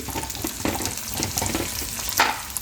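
Fish curry ingredients sautéing in a pan, with a steady broadband sizzle and occasional soft stirring scrapes, close and moderately loud, no voices.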